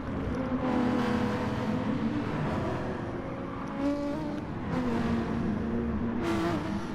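Gran Turismo race cars, including a Lamborghini, Corvette and Jaguar, roar around Interlagos in a continuous engine drone with rising and falling pitch as cars pass and shift.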